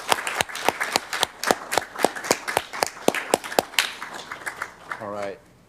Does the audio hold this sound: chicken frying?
no